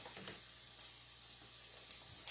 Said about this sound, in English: I'm just frying them.